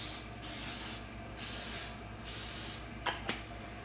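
Three long bursts of cooking spray hiss from a can onto a chaffle maker, evenly spaced and fairly close, followed by two short faint clicks.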